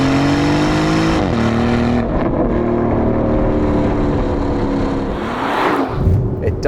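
A 2024 Porsche Cayenne with a V8 engine accelerating hard on a track, a loud continuous engine roar rising in pitch through the gears with brief shift dips, heard from inside the car.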